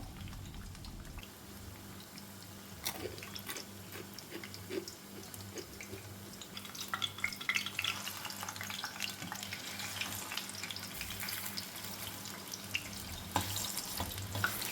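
Leftover pazham pori batter frying in hot oil makes a soft, steady crackle and sizzle with scattered pops and faint clinks, quiet and close throughout.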